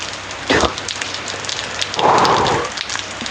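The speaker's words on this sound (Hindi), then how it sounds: "फ़िलहाल मैं आपको बारिश दिखाता हूँ" Heavy rain with thunder: a constant hiss of downpour broken by two loud, close rumbling thunder bursts, the second longer and fuller, with no voices.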